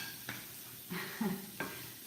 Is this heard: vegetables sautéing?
yes